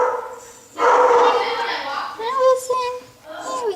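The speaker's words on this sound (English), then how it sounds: "we got a mean dog in the back" A dog barks and yips in short bursts close by, with a person talking to the animals over and between the barks.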